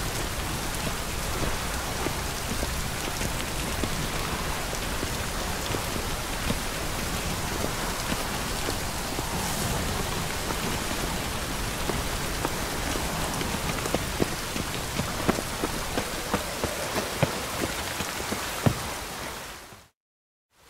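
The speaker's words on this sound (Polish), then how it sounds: "Deszcz zmyje z ulic brud tego miasta." Steady rain pours down in The Witcher 3: Wild Hunt during the Blood and Wine expansion, a dense continuous hiss of drops on surfaces filling the scene at even loudness before cutting off abruptly near the end.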